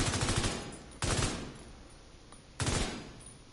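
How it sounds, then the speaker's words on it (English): Explosions in the video game The Division 2 boom out in loud bursts, two big blasts about a second and a half apart, each decaying into a rumbling tail after an opening burst. "So it's one explosion that's actually 4 explosions"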